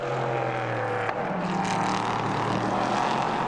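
The Graf Racing number 39 race car passes during the 2019 Barcelona round, a loud, sustained engine roar that holds steady with a brief dip and change in pitch around its passing, without voices.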